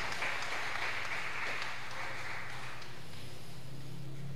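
A church congregation applauds in a steady, dense wash of clapping that holds at an even level from start to finish, with no voices standing out.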